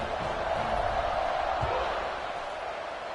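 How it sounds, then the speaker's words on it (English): A football stadium crowd keeps up a steady, dense buzz after a score, with a broad roar that fills the whole stretch and eases slightly toward the end. "this crowd is buzzing after that last score"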